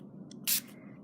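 A single short burst of purple watercolor spray hisses from a bottle, quick and bright against a quiet room with a faint hum.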